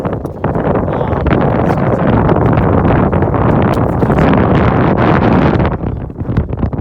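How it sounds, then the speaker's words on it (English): Strong wind roars across a mountain top, buffeting the microphone in a loud, continuous rush with gusty flutters throughout. "Pretty windy up here."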